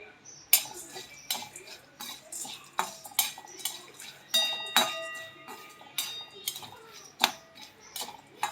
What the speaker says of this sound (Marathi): थोडासा दाबेली मसाला आणि थोडंसं लाल मिरची पावडर घालून आपल्याला इथं हे शेंगदाणे परतून घ्यायचे बघा